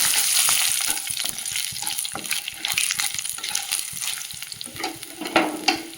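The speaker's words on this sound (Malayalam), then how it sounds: "ഒരു 3-4 മുളക്, ഒരു സ്പൂൺ ഉഴുന്നിടാം. മുളക് ഒന്ന് വഴറ്റി കൊടുക്കുക." Dried red chillies and urad dal sauté in a little oil for tomato chutney, a continuous sizzle broken by frequent clicking stirs of a spoon against the pan.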